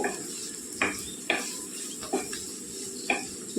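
Broad beans fry in a pan with a soft, continuous sizzle, broken by a few sharp clinks and scrapes of a spoon stirring against the metal.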